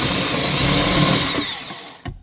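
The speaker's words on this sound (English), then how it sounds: "I'm going to go ahead and drill a hole in the center to give the clearance for the switch." A power drill whines at high pitch as it bores steadily into an RV wall, then winds down and stops, followed by a short knock.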